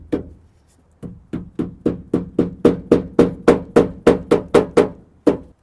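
A hammer gently tapping down metal-embedded insulation strips on a project car, about seventeen sharp, evenly spaced knocks in a quick steady rhythm after a lone opening tap, close and loud.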